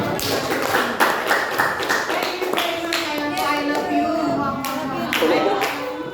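Classroom clapping from a group of children after an English lesson, a dense patter of hands throughout with a teacher and kids speaking over it.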